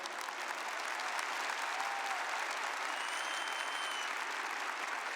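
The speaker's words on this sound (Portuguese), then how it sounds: "Se é para aplaudir a palavra, você pode aplaudir mais forte." A church congregation applauds during a sermon, a steady, even wash of many hands clapping throughout, moderately distant with no break.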